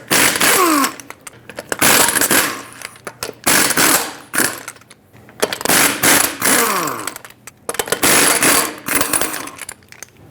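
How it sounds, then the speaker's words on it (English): An impact wrench spins off the five lug nuts of a Subaru Forester rear wheel with a 19mm socket, in repeated loud buzzing bursts separated by short pauses. "let's use a 19mm socket, remove all 5 lug nuts, and pull the wheel off"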